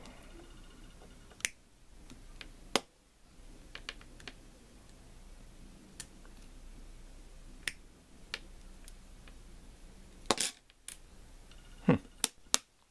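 Wire cutters snip leftover wire ends during a digital soldering iron repair, giving a scatter of crisp, isolated clicks spread irregularly over a quiet bench background.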